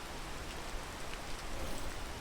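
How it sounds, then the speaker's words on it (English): Rainfall in the video game Peak, a quiet, even hiss of steady rain with no other sounds. "The rain sounds have started to go away. I mean, they've gotten quieter, but I guess They're still going."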